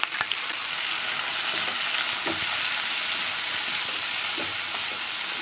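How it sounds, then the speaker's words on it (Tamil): Coconut, curry leaves, shallots and garlic dry-roasting in a pan, giving a steady close sizzle with repeated stirring scrapes and light taps throughout. "இது எல்லாத்தையும் நம்ம ஒன்றா சேர்த்து என்ன செய்ய போகிறோம் வறுத்து எடுத்துகிட்டு போகிறோம்"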